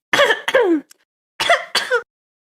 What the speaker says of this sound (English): as I proceed to cough